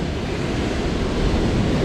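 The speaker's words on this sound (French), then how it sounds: "Faites gaffe, il y a des grosses vagues là" Heavy surf on a rocky coastline where sea bass are fished with lures, big waves crashing in a steady, loud broadband roar with wind buffeting the microphone throughout, no voices.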